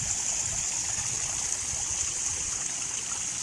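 Water trickles steadily at a backyard pond, a constant soft, even wash with no pauses or voices.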